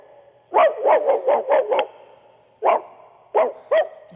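A man on a radio call-in imitates a big mongrel dog with his voice. A rapid run of six gruff woofing barks is followed by three more spaced barks, loud and close.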